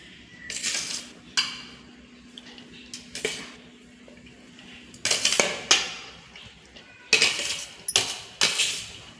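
A spoon scoops rice into a cooking pot while chicken biryani is being layered. Sharp metallic clinks and scrapes of utensil against pot come in several separate bursts, loud and close, with quiet pauses between them.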